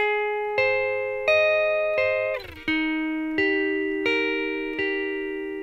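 An electric guitar plays the opening two measures of a song: clean chords struck about eight times at an even pace, each ringing out and decaying, with a quick slide between them.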